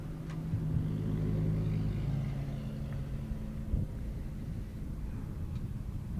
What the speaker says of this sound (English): Clint Hyatt in that beautiful Mercedes AMG GTS.